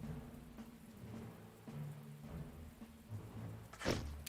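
Steady rain hisses over a low rumble in a First World War battlefield scene in The Great War: Western Front, with soft thuds scattered throughout and a sharper crack of thunder near the end.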